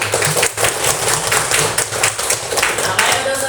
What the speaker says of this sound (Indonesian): tepuk tangan untuk kelas 4